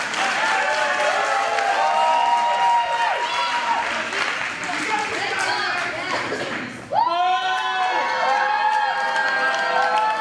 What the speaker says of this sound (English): Mixed response from the crowd.